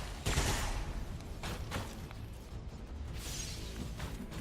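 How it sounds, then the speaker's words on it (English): Rapid bursts of mech gunfire in the video game XCOM 2, a dense rattling volley with sharp impacts and a whooshing tail, loud and continuous. "The mech comes up, tries to shoot this guy."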